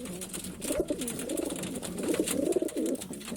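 Male pigeons coo in a steady, overlapping murmur of low throaty calls, close by and continuous throughout, with no voices.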